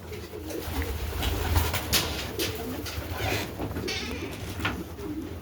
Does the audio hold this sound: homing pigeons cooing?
yes